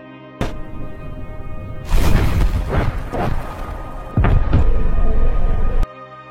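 A truck's nitro tank exploding in a film, with several heavy booming blasts and roaring bursts that come in waves, loud and close, followed by a sudden cutoff.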